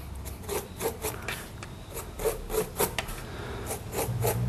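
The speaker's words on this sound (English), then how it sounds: "I'm just scratching it into a few areas here and there" Repeated rasping scratches as a tool scores into wet paint on a painting surface for a forest pond scene, a steady rhythm of short strokes, close and moderately loud, with no talking.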